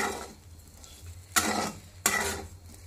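Bitter gourd is stirred in a pan over a soft sizzle, with two distinct scraping strokes of the spoon against the metal.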